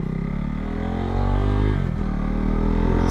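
A motorcycle fitted with a LeoVince LV-10 aftermarket exhaust rides at low speed, its steady low rumble holding on and then rising slightly as the throttle opens.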